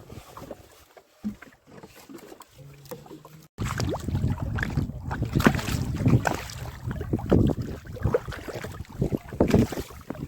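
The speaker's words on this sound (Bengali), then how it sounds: "প্রচণ্ড হাওয়া, হাওয়া কমছে না আজকে" Strong wind buffets the microphone in loud, gusting rumbles in the Sundarbans, with splashing water from a small boat nearby; no one speaks.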